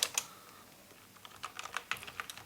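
Quick bursts of keystrokes on a computer keyboard while entering a command in a software testing session, close and clear, with a short pause between clusters of taps and no talking.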